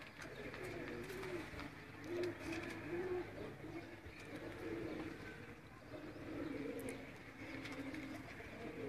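Pigeons in a Sialkot fancier's loft coo steadily, overlapping low throaty calls rolling on throughout at moderate distance with faint background noise.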